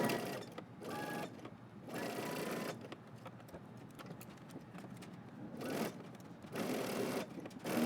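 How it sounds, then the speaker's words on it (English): Sewing machine stitching a sleeve seam on a top at 5/8 inch seam allowance, a soft rapid mechanical chatter in several runs separated by brief pauses, fairly close and quiet. "we're going to go ahead to the sewing machine and we're going to stitch all the way around using 5/8 of an inch seam allowance"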